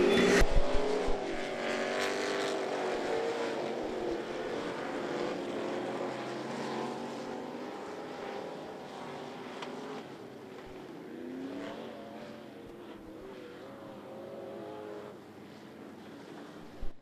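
Race cars in a B Hobby heat race at I-75 Raceway roar steadily past, engines droning and layered at a distance for the whole stretch, with no talk over them.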